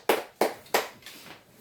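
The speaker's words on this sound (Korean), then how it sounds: "하나님께 영광의 박수 올리겠습니다" Three sharp hand claps in a steady rhythm, then a fourth softer one, ring out loud and close as applause for God during a church service.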